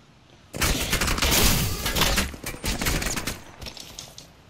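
Enemy gunfire in Apex Legends, a dense burst of rapid shots that starts abruptly and keeps rattling for several seconds, loud and close, then tapers off without any talk over it.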